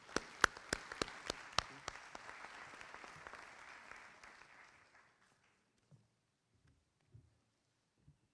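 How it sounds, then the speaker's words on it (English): Graduation ceremony audience applauding, a burst of loud sharp claps near the start, then sustained clapping that fades out after about five seconds, leaving a few faint scattered knocks. "give us a big round of applause for Chief Williams joining us tonight"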